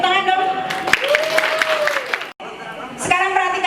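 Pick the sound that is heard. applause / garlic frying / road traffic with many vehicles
applause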